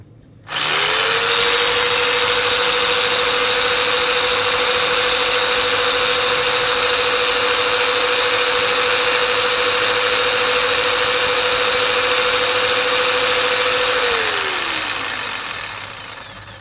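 A DongCheng DMQ85S electric jigsaw whirs at its top speed setting, a loud steady high whine lasting over ten seconds before spinning down and stopping.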